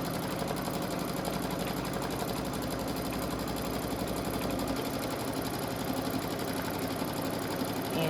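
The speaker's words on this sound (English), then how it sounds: "Now the satin stitch is going to take a while." An embroidery machine sews a satin stitch with a fast, even mechanical chatter that continues without a break at moderate volume.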